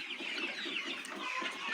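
Chickens recovering their appetite after herbal remedies cluck busily and close by, a steady overlapping flock chatter with no one talking.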